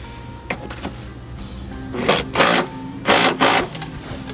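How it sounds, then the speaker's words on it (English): A power drill whirs in several short bursts, the last two longer and louder, while tightening the bottom bolt of a running board bracket during an Owens running board install on a Hyundai Santa Fe. "We're gonna go ahead and tighten up the bottom bolt."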